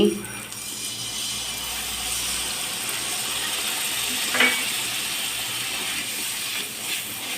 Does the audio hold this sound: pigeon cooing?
no